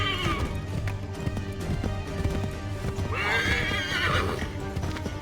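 A horse in Assassin's Creed 3 whinnies loudly over the rapid clip-clop of galloping hooves, with a second neigh rising partway through amid game sound.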